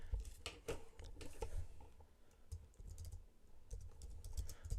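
Clicky keystrokes on a computer keyboard in bursts and steady runs, fairly close and moderately quiet, set against light room background with no speech.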